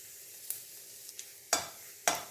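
Faint steady sizzling of cumin, dried red chillies, bay leaves and whole garam masala in hot oil, broken by a few sharp scraping stirs, two of them louder and close.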